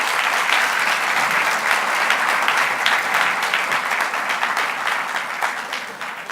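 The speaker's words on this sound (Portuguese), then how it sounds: "Vamos recebê-lo com a salva de palmas." A church congregation applauds to welcome Padre Antoine, sustained loud clapping from a large crowd that holds steady for several seconds and fades slightly at the end.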